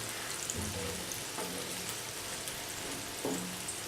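Tender jackfruit pieces frying in hot oil in a pan as a snack, a continuous close crackling sizzle with a few soft stirring knocks.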